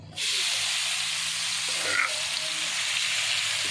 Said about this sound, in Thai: น้ำมันเราเดือด แล้วก็ใส่พริกแกงที่เราตำไว้นะครับผม